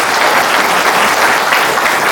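An audience at a Korean farm-management talk bursts into dense, steady applause, many hands clapping close and loud throughout.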